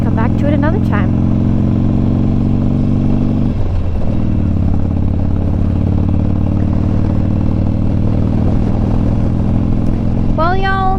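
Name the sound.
road traffic passing by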